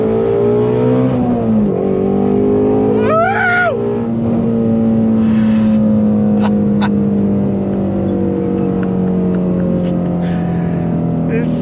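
A 2024 Ford Mustang Dark Horse engine rumbles deeply, then the throttle is blipped into a sharp rising rev before settling back to a loud, steady drone.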